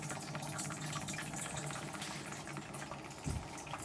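A diesel fuel bleaching machine processing dark, dirty or colored diesel runs continuously, giving a steady broadband hum and churning liquid rush with one brief knock near the end, with no talk.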